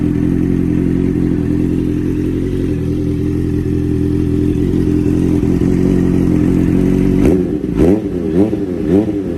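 A 2015 Honda CBR650F motorcycle engine runs at a steady, loud, close idle for about seven seconds, then is blipped through several quick throttle revs that rise and fall.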